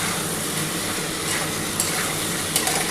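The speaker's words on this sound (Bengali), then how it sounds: "খুব ভালো করে কিন্তু মশলাটা কষাতে হবে।" A Bengali katla fish curry's spice paste stir-fried in oil, giving a steady broadband sizzle and frying hiss with a couple of faint spatula scrapes near the end.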